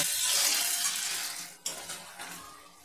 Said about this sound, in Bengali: এটা আমি একটু হালকা করে ভেজে নেব